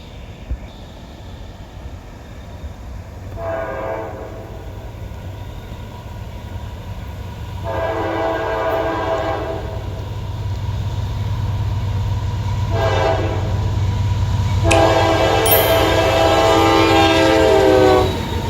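A fast train roars past over a steady, building rumble of wheels on rails, its horn blaring four times in long and short blasts, close and loud.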